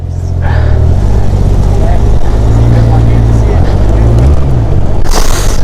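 A used Honda Goldwing motorcycle bought for $500 rumbles at a loud, steady, close engine drone as it sets off on its first ride, with a brief surge near the end.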